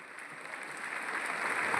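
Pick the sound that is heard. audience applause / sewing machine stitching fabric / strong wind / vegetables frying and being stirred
audience applause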